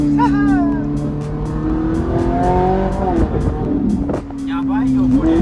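A tuned Nissan GT-R engine, heard from the passenger seat while driving, revs loudly and rises through the gears with shifting pitch, dipping briefly before pulling hard again.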